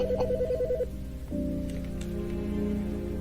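A telephone rings in the video game Autopsy Simulator, a short electronic warbling tone that stops after under a second over a steady low background hum.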